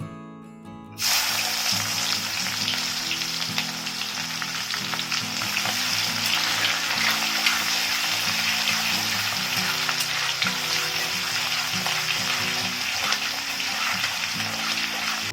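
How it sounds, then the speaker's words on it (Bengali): Chopped onion hits hot oil in a pan for a fish curry, and after a brief quiet start a loud, continuous close-up sizzle and crackle sets in and holds steady. "পেঁয়াজ কুচিগুলি হালকা লাল করে ভেজে নেব"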